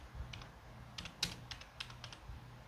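Typing on a computer keyboard while entering Arabic text in DaVinci Resolve editing software: a quick run of light, close key clicks in small irregular bursts, with no voices.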